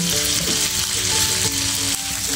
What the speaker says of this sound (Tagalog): Ipa-golden brown lang natin yung ating garlic.